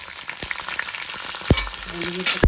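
Cumin, mustard seeds and dried red chillies tempered in hot oil for a gangavalli dal, making a continuous close crackling sizzle with a few soft thumps from the pan.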